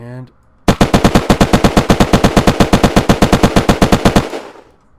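An assault rifle in the video game Unturned empties a 30-round magazine in one loud, steady, rapid burst of evenly spaced shots lasting about three and a half seconds, then a brief tail of silence.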